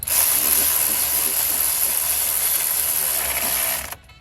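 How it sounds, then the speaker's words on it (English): A cordless ratchet driving 15 mm bolts on a 2003 GMC Yukon Denali during wheel hub bearing work, a continuous high whirring buzz lasting nearly four seconds before it abruptly stops. "I'm using a cordless ratchet today to speed up the process"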